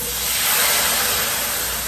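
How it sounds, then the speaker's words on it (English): Loud, continuous hissing and sizzling, like water hitting a hot pan and flashing into steam, close up and without voices. "We're going to add a little bit of water to loosen things up."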